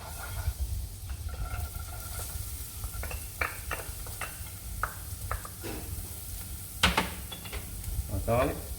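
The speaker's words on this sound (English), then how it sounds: "So we put the rest of the butter in a pan. The rest of our onions." Onions sizzle in butter in a pan, a soft, steady frying hiss broken by scattered stirring clinks and scrapes, with a voice speaking briefly.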